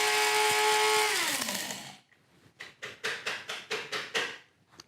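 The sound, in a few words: spice grinder grinding spices and bay leaves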